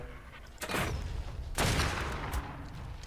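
Gunfire in the video game ARK, two dense bursts of shots roughly a second apart that ring out loud and rough over constant background noise.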